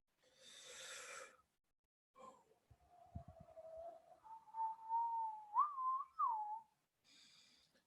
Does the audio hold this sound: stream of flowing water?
no